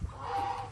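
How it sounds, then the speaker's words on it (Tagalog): Native chickens and a fighting rooster on a farm, a brief, faint cluck or call lasting under a second, alone against quiet outdoor background. "Fighting rooster."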